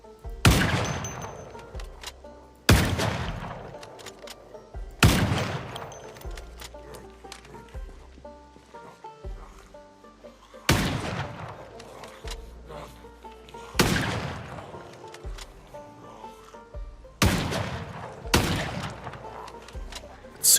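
A rifle fires at zombies in Project Zomboid: loud single shots about every two to three seconds, each with a ringing tail, over quieter background clatter.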